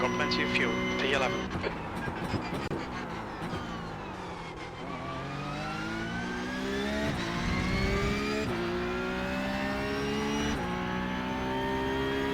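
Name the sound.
Porsche 911 race car engine in iRacing video game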